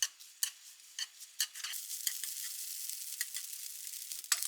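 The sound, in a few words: deep-fried tofu (aburaage) lightly stir-fried in pan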